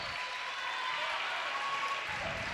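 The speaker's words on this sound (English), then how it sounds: "Crowd starts to get into it a little bit." A crowd at a college basketball game cheers and applauds in a steady, dense roar of clapping and voices that fills the gym without letting up.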